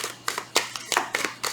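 Tarot cards being shuffled by hand, a quick series of soft papery riffles and taps, close and faint, with no talking.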